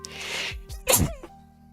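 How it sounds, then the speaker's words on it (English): A single sharp sneeze with a quick inhale before it, close to the mic. "I have a sneeze."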